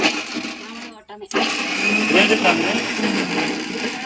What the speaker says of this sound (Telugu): మిక్సీ ఏం పడుతున్నావు?